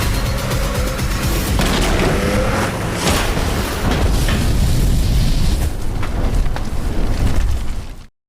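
A loud booming car explosion in a film, with rumbling blasts and crackling debris, sustained roar that cuts off abruptly at the end.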